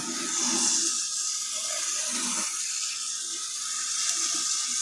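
Water pours steadily from a tap in a continuous broadband rush, close and even throughout, with a faint voice murmuring early on.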